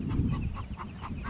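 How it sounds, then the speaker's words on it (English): A hen cackles after laying an egg on a small farm: a run of repeated, rhythmic squawking calls, moderately close, over a low background rumble with no talking. "That chicken must have just laid an egg."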